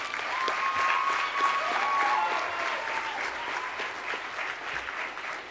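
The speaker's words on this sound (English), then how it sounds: "Let's give her another round of applause for that." Strong, sustained applause from a high school graduation audience, a full crowd clapping continuously with a faint tone ringing briefly early on, steady in level to the end.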